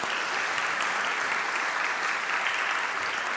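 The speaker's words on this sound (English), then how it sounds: "So give them another round of applause for their work." An audience at a civic leadership summit gives a sustained round of applause, dense and even, with many hands clapping close by for the whole stretch.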